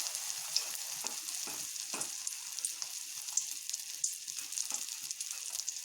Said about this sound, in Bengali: এটি আস্তে আস্তে হিট দিয়ে ভেজে নিতে হয়।